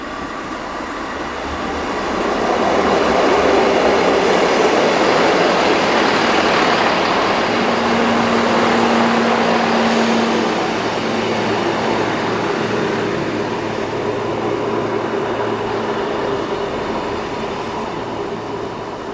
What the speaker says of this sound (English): That was supposed to be my train to Rosnega.